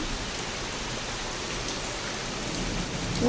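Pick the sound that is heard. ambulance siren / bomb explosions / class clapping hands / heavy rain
heavy rain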